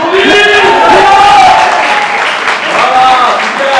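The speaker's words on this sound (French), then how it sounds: "On applaudit." A conference audience applauds loudly and continuously, with cheering and shouted voices mixed into the clapping throughout.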